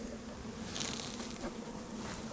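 Honey bees buzz steadily and close around an open hive during an inspection, a continuous dense drone with no talking.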